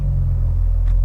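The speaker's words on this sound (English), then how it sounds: "it idles so beautifully, and you can feel the engine mounts." A BMW Z4 M fitted with a CSL airbox idles close by, a deep, steady rumble with an even low pulse throughout, no voices.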